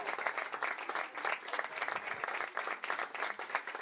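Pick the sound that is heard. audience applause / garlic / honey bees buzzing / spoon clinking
audience applause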